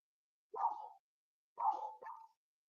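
A dog gives three short, sharp barks at a distance, the last two close together, each separated by silence.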